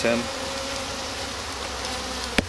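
Honeybees buzz steadily from an opened hive colony during a beekeeping inspection, a dense continuous drone held close throughout, with one sharp brief click near the end.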